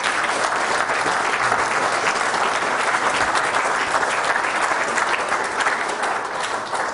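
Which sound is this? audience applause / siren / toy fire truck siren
audience applause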